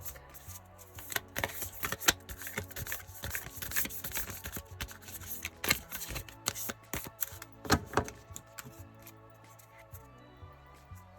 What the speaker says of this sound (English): I'll shuffle it, and unless a message card comes out, I'm going to cut the deck